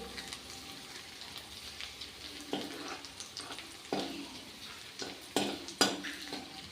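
Garlic sizzles steadily in hot mustard oil in a pan for a green-bean sabji, with repeated scraping and clinking stirs of a spatula that grow louder toward the end.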